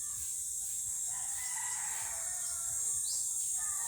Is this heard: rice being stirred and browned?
no